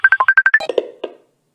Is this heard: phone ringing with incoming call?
yes